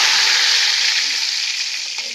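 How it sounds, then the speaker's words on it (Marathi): Cumin and mustard seeds crackle and sizzle in hot oil in a well-heated kadai, a dense, steady, close frying hiss that holds for a couple of seconds with no voices. "आता कडे चांगली गरम झाली आहे"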